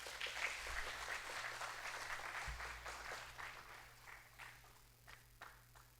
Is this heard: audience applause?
yes